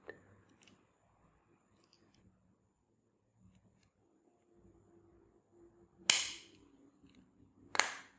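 Two sharp plastic snaps as a smart car key casing is pressed shut, close and crisp, separated by a quiet pause over faint room noise.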